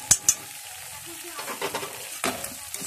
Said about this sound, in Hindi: फिर इसको अच्छी तरह से मिला के फ्राई करेंगे